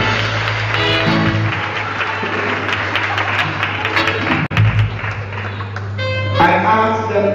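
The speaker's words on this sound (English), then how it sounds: "Clap your hands and praise the Lord now." A church congregation claps along with loud music and singing voices, the sharp hand claps blending into the steady accompaniment.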